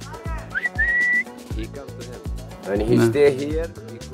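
A person whistles a few short rising notes to call back a bird, over background music with a steady beat, followed by more melodic sounds.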